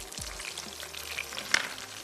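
Onions and tomatoes fry in a pan for a chana dal gosht curry, giving a faint, steady sizzle with a brief clink of a stirring spoon partway through.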